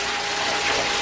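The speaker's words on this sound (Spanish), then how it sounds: "Sí, la cascada se activó." Pump-fed artificial waterfall running, a steady close rush of falling, splashing water that holds even and continuous for the whole second.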